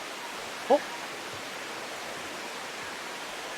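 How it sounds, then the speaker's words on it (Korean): Falling water at a Naeyeonsan mountain waterfall keeps up an even, moderately loud hiss, broken only once early on by a short vocal sound. "폭포가 아주 기가 막혀."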